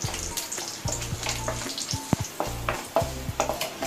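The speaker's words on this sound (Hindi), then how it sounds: "और इसके अंदर लहसुन की कलियां भी डाल देंगे। बहुत ज़्यादा हमें इन्हें नहीं जलाना है, इन्हें हल्का सा भूनना है" Garlic cloves frying gently in oil over a low flame for a chutney tempering, giving a steady close sizzle with soft crackles and a few sharp pops and stirring clinks, alone with no talk.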